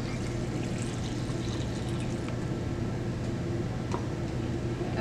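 Film developer chemical is poured slowly through a locked funnel into a developing tank, a steady continuous liquid pour lasting several seconds at close range with no talking.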